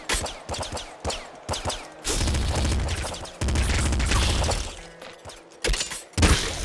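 Bursts of gunfire from the Nuclear Throne video game: sharp single shots, then sustained rapid volleys with heavy low booms, cutting in and out in choppy clusters with no talking over them.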